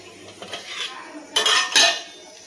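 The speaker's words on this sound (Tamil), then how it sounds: "2 முருங்கைக்காய் எடுத்து வச்சுருக்கோம். இதை கட் பண்ணி எடுத்துக்கலாம்." Drumsticks for sambar being cut in a kitchen: a knife taps and scrapes on a cutting surface in a few short, close strokes, with two sharper, louder cuts toward the end and no talk.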